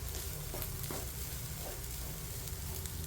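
Grated coconut roasts in a pan with a steady, close crackling sizzle and soft stirring scrapes, continuous and even throughout with no voices.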